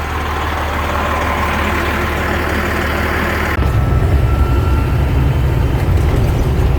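A vehicle engine driving and climbing a hill during a test run, a loud, steady low rumble that deepens and grows heavier partway through as the load increases, with no voices.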